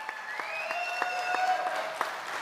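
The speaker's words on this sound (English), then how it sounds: "yeah, go ahead and clap." A graduation ceremony audience applauds, a soft, fairly distant patter of clapping with a few sharper individual claps, while a faint tone hums steadily behind it.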